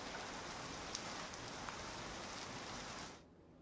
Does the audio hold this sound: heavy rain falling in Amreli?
yes